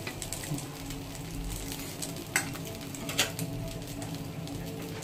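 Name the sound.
frying flatbread in a pan with added oil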